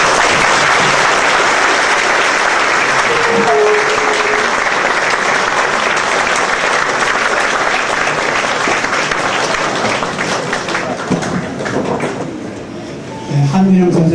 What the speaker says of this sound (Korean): 여러분, 한균영 선생님과 사모님 그리고 가족 여러분을 위해 우리 모두 큰 박수로 축하해주면 어떻겠습니까?